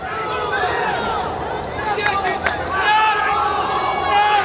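Crowd of about 10,000 roaring and cheering in a packed convention center arena during a state high school wrestling championship final in Atlantic City, a steady loud din that swells near the end.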